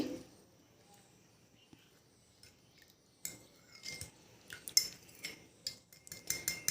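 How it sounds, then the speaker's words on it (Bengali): A utensil whisks a sour yogurt mixture in a bowl, first quietly, then in louder irregular scraping and clinking strokes against the bowl, with faint background noise. "এই টক দইয়ের মধ্যে দিয়ে ভালো করে কিন্তু এটাকেও ফেটিয়ে নিতে হবে"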